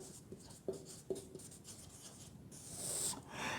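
Chalk or marker scratches and taps across a classroom board in short strokes, a few sharp knocks followed by a longer squeaky rubbing stroke, close and quiet.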